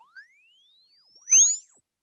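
A synthetic tone sweeps upward in pitch under heavy digital distortion, and aliased harmonics fold back as a brief, loud tangle of crossing tones near the end before it falls silent.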